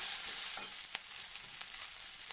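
Chopped tomatoes frying in a hot pan, a steady close sizzle with faint stirring clicks and scrapes, no voices.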